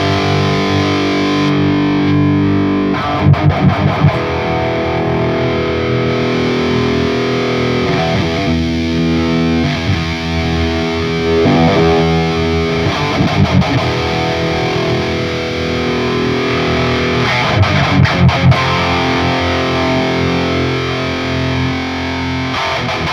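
Distorted electric guitar played through the Dominator amp sim with its graphic EQ engaged, heavy chugging riffs with sustained chords and short palm-muted bursts, loud and alone.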